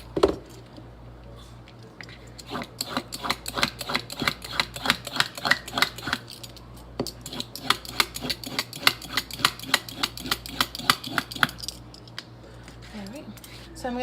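A long-used family vegetable peeler scrapes over vegetables in quick, steady, repeated strokes, close and crisp, continuing for several seconds with brief pauses between runs.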